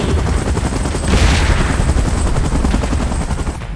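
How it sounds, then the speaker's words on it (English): A helicopter in PUBG Mobile roars loud and close throughout, a dense, steady rotor throb with a brief swell partway through, no voices over it. "Evacuation measures. Chopper in position. Please evacuate immediately."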